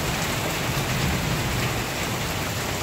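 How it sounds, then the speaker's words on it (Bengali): Heavy rain pours down in a dense, unbroken roar, loud and close, with no voices or other sounds breaking through. "সকাল থেকে মুষলধারে বৃষ্টি শুরু হয়ে গেল"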